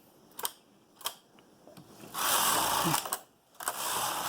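A Brother knitting machine with ribber attached, its carriage knitting back from hold: sharp clicks and clacks, then a longer rasping sweep of the carriage across the bed, another pause, and a second sweep.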